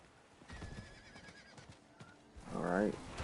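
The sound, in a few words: horse hooves and neighing in the video game Diablo 4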